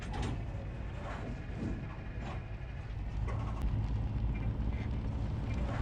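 Truck engine in the Truckers of Europe 3 video game, a low, steady rumbling drone with faint metallic rattles and clunks on top, quiet and continuous with no talking.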